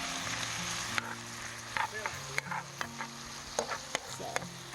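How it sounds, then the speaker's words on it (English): Beef frying in a pan at a campsite, a soft steady sizzle broken by scattered clicks and scrapes of stirring, with faint voices in the background. "So I'm just going to take and fry up my beef in my pan."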